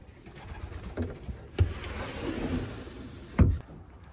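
Racing pigeons coo softly in a loft, low throaty calls repeating in a loose rhythm, with a few sharp knocks and wing or perch bumps standing out close by; no talking.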